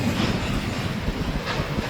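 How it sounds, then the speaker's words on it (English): An Amtrak train rumbling past close by on the way to Roseville, a loud continuous roar of wheels and rail noise with faint clattering, no voices. "sometimes you got trains that coming through here a little fast"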